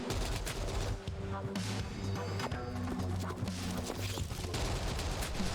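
Rapid bursts of video game gunfire from a realistic gun, sustained and dense over a constant game soundtrack, with crashes and clattering hits mixed in throughout.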